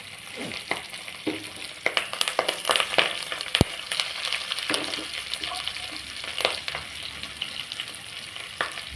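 Onions fry in an oil-filled pan for vegetable rice, a dense crackling sizzle broken by irregular scrapes and clinks of a stirring spoon, close up and continuous with no voices.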